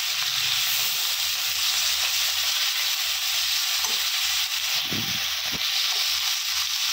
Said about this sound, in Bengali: এদিকে আমার মাছগুলো এক সাইড ভাজা হয়ে গেছে।